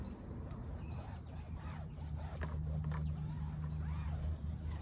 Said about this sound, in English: See that big old cicada bug?